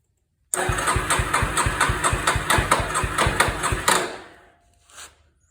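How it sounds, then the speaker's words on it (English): A Yamaha Warrior ATV engine cranks with a rapid, regular chugging on choke, catches briefly at close range, then fades and dies out after a few seconds. "turn the gas on now, turn the key on, see how it runs"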